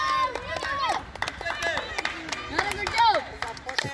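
Scattered hand clapping and crowd noise at a school football penalty shootout, with people talking and calling out over the sharp claps throughout.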